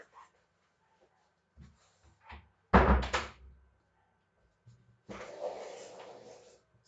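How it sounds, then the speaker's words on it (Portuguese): A door pushed open by a dog during an online lecture, heard as a loud thump and rattle in the middle, then a longer scraping, rustling swing of the door. Brief quiet talk comes before it. "Espera aí que o cachorro abriu a porta."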